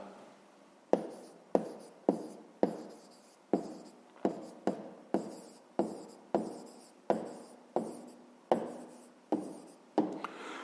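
A pen writing an answer in a school notebook, close and distinct, in short repeated scratchy strokes, each starting sharply and trailing off, about fifteen strokes with brief pauses.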